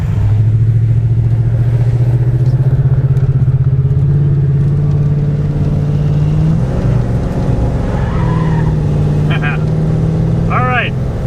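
An abandoned limousine's engine roars steadily under a 100-shot of nitrous, a loud, sustained drone that shifts pitch midway, with talking over it.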